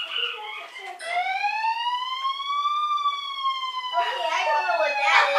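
A loud electronic locator siren from an OUTAD portable Bluetooth speaker sweeps slowly upward and back down in one long wail, with a person speaking briefly over it.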